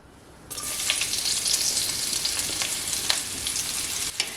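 Chopped onion, ginger and garlic drop into hot oil and sauté for a ragi idiyappa breakfast, a sudden loud sizzle that settles into steady frying with occasional stirring clinks, no talk.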